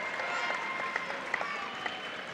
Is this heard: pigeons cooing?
no